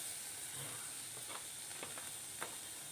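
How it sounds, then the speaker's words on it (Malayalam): A tablespoon of coconut oil heating in a pan with chopped shallots gives a steady soft sizzle and hiss, broken by a few brief stirring scrapes and clicks, close and alone. "ഇനി കുറച്ച് വെളിച്ചെണ്ണ ഒഴിച്ചു കൊടുക്കുക."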